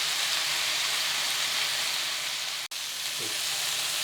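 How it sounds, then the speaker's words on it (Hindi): Chicken pieces fry on a high flame until golden brown, giving a steady, even sizzle and hiss that carries on without a break, with one brief click partway through. "चिकन के पीसेस को हम अलट पलट करते हुए अच्छे"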